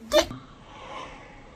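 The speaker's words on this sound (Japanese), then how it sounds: "振り返りくしゃみね。" A woman sneezes once, a short sharp burst near the start, followed by quiet room noise.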